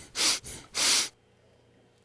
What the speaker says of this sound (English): I'll just give that a sniff